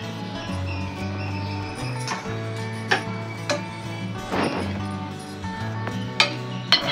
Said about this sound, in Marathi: वाटण तयार करण्यासाठी आपण हे किसलेलं खोबरं आधी भाजून घेऊ।